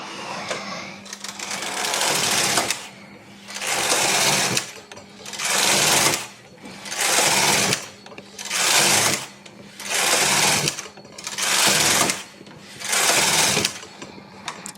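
Brother KH 910 knitting machine carriage sliding back and forth across rows, seven loud rhythmic swishing passes about every 1.5 seconds with brief pauses between, close up and without talk.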